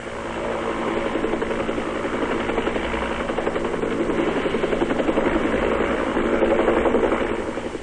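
A Royal Australian Air Force helicopter gunship flies over a Vietnam combat zone, its rotor chop and turbine roar a steady, loud drone throughout that swells slightly toward the end.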